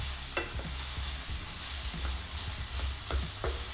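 Onions sizzle steadily in olive oil in a pan over medium heat, a continuous close hiss broken by several soft scraping stirs spaced through the sound.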